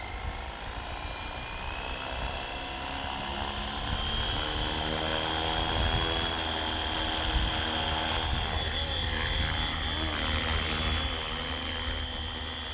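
Flywing Bell 222 radio-controlled model helicopter hovering in still air, its rotor and motor giving a steady, continuous whine and whirr at constant loudness throughout.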